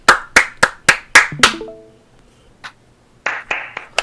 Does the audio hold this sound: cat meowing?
no